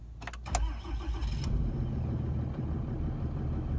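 A new Cummins 6.7 diesel truck engine cold-starts in freezing weather: starter cranking, then a catch and a rough, rumbling settle into a steady diesel idle, close by.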